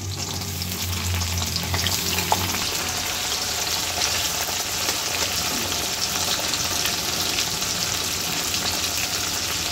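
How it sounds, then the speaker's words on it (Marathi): Onion sizzles and fries steadily in hot oil with green chillies for rava upma, a dense continuous crackle with occasional stirring scrapes, close and loud with no talking. "आता याच्यामध्ये कांदा टाकून द्यायचा आहे."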